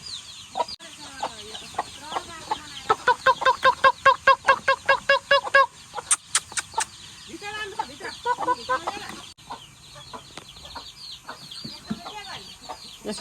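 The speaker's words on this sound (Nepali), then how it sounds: "ल यता चाहिँ मम्मीले छोप्नु हुँदैछ कुखुरा" A chicken caught by hand in a rural yard gives out a fast run of loud, rhythmic clucks and squawks that rise to sharp cries in the middle, then trail off into scattered clucking as people talk quietly nearby.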